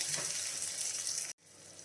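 Mustard seeds, curry leaves, dried chilli and urad dal sizzle in hot oil as a tempering, a bright crackling hiss that runs steadily, then cuts off abruptly and comes back faintly a moment later.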